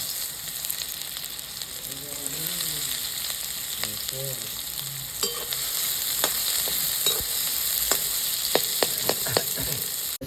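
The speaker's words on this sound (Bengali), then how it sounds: "আমার তেল গরম হয়ে গেছে আমি পেঁয়াজ কুচোটা দিয়ে দেবো" Chopped onion frying in hot oil, a steady close sizzle throughout, with brief scraping stirs and a few light clinks of a spoon against the pan.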